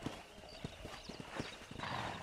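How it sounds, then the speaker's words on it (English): Horse hooves clip-clop at an uneven trot in Red Dead Redemption, with a whinny rising near the end, close and fairly loud over game ambience. "No, I'm trying to turn my horse around."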